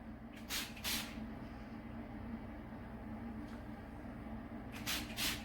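Several short bursts of a hair spray bottle misting onto hair, a quick pair early on, one faint puff midway, then another pair near the end, over quiet background hum.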